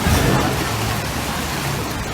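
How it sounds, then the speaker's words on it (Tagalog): Rain falling steadily on a flooded street in Hagonoy, Bulacan, a continuous hiss-like wash with no break. "Kahit baha at umuulan"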